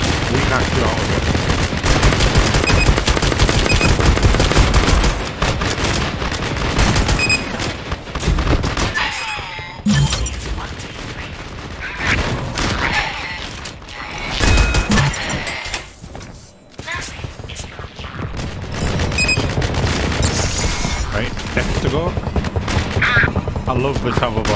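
Gunfire in the online shooter LEAP, with dense bursts of automatic fire and fusillades running almost nonstop, briefly dropping away twice, while players talk over it.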